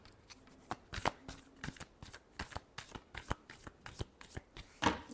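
Tarot cards are shuffled by hand in a quiet room, a close series of crisp riffling flicks and soft slaps in a steady, uneven rhythm, heard alone.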